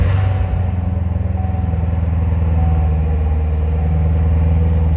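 A 2015 Chevrolet Corvette Z06 convertible idles with a deep, steady engine rumble, loud and close, holding an even low drone throughout with no voices.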